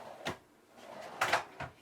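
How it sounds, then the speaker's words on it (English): A big pull-out drawer in a renovated Argosy Airstream RV gives a few short, close knocks and slides, with the loudest burst near the end, in an otherwise quiet cabin. "for the next 3 cabinets, you have 2 big pull-out drawers."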